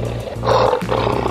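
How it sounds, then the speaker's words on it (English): A lion roars loudly and continuously, a deep rough growl that swells in the middle and holds steady to the end, with no voices present. "Lion."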